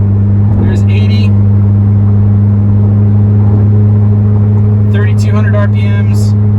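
A VW MK7 Golf R with a Nameless Performance exhaust cruises at freeway speed, giving a loud, steady low exhaust drone and road rumble from inside the car, with someone talking over it at the start and the end.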